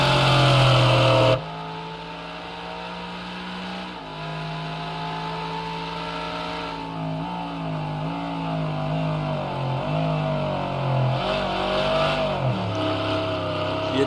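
Engine of a Mercedes-Benz AMG GTR in the racing game Project Cars 2, revving and drifting through a corner, with a loud sustained engine note rising and falling in pitch and brief gear changes.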